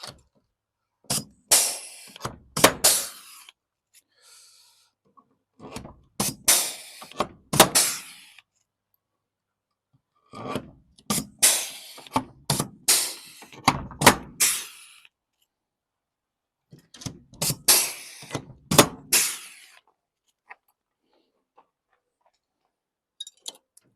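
Rivets being banged in during a wood-fired pizza oven conversion, heard as three clustered bursts of sharp, close metallic knocks and taps separated by short pauses, with no talking.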